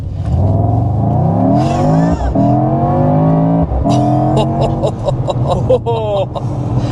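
Loud, close engine of a 2024 Mercedes-AMG GT63 revving hard as it accelerates, pitch sweeping up through several gear shifts with rattling interior noise.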